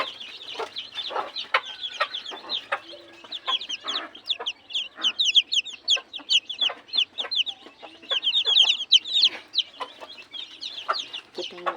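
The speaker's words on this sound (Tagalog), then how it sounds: "May mga manok pa doon guys." Chickens on a rural farm cluck and chatter continuously in a busy, close-up flock, with rapid overlapping calls and faint scratching, no talking present.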